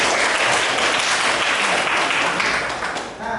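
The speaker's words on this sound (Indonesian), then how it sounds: "Tepuk tangan untuk kita semua." A classroom of students applauds together for their own participation, a dense and steady burst of clapping that stays loud and close for about three seconds, then thins out briefly at the end.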